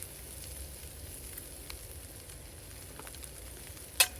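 Bacon, mushrooms and spices fry in a pan with a soft, steady sizzle and faint crackle, low in level, with a brief sharp clink near the end.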